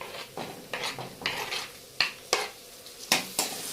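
Chopped tomato sautéing in a pan for an egg curry, with a soft sizzle beneath repeated scraping stir strokes from a spatula, several distinct clinks against the metal, close and fairly quiet.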